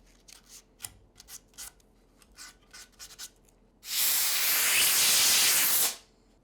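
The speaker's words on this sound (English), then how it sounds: "give the whole thing a light sanding just so the surface finish is uniform" Light sanding of a repaired surface: a few soft scratchy strokes and taps at first, then a loud sustained hissing abrasive rasp lasting about two seconds before cutting off.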